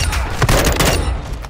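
Rapid burst of gunfire in Modern Warfare II gameplay, loud overlapping shots in quick succession fading over a second and a half.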